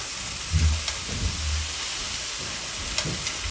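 Chopped banana and jaggery drop into a hot pan of ghee, giving a steady soft sizzle with a few brief clattering stirs and scrapes.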